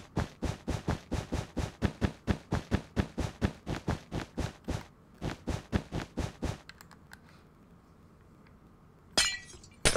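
Glass panes shattering one after another in a block-building video game during a hockey stadium build, a fast, even run of loud close breaks that stops partway, followed by quiet and a couple of brief clicks near the end.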